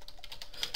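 Quick, steady keystrokes on a computer keyboard while a Windows network command is entered, close and fairly quiet, a rapid run of light clicks with no talking.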